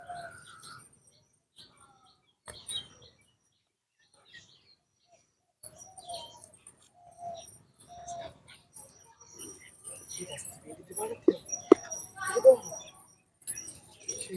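Pigeons coo and chirp intermittently in short scattered bursts while wheat grains are scattered for them to eat, the calls fairly close and growing busier toward the end.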